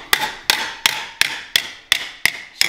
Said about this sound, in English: when you're hammering, actually, if you try to draw the hammer, you get a better finish